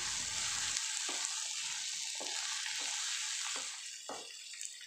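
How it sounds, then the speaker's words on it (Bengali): Eggs stir-fried with spices in a pan sizzle steadily up close, with scraping strokes of a spatula marking an irregular rhythm against the hiss. "ডিম ভালো করে মশলার সঙ্গে কষিয়ে নিচ্ছি"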